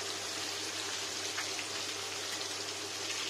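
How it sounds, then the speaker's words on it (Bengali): Rohu fish frying in hot oil in a pan, a steady dense sizzle with soft crackles, fairly faint and continuous. "ভাজা যাক, তবে উল্টো করে।"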